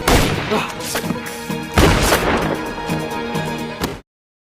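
Loud bursts of gunfire crack repeatedly over a dense, noisy background with rumbling impacts, ending abruptly in silence.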